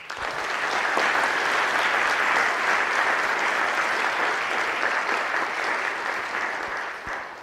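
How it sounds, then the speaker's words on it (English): Sustained applause from a large audience at the Middle Creek High School graduation ceremony, steady and loud for the whole stretch without pause or voices. "Please give them a round of applause."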